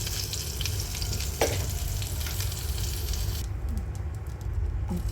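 Cumin seeds drop into melted butter in a pan and crackle with quick pops and spits over a steady sizzle. The high hiss softens partway through.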